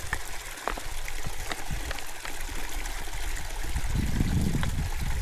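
Water trickles and streams steadily through a filter screwed onto a plastic bottle, a close, continuous gurgling flow that swells slightly toward the end, with no voices.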